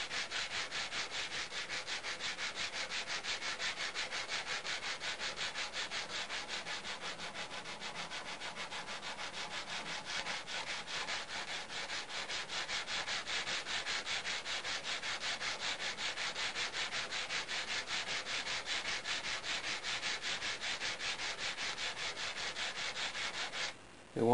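A hand file strokes lightly over a metal Browning gun part in a quick, even back-and-forth rhythm, a close, continuous rasping that runs for over twenty seconds without talk and stops abruptly at the end.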